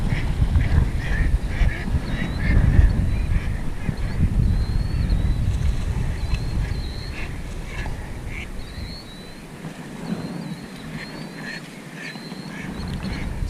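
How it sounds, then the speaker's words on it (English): Flock of migrating ducks and geese on the water at a lakeside fishing spot on an unseasonably warm fall day, scattered quacks and honks repeating steadily at moderate distance over a constant wind and water rumble. "Wow, there are a lot of migrating ducks down here."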